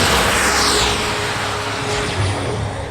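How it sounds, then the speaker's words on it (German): Model aircraft flying in synchronized formation at an airshow, one propeller-driven and one turbine jet, giving a loud continuous engine drone with a high whine that shifts slowly in pitch. "Schauen Sie an, Synchronflug mit Propeller und Turbine."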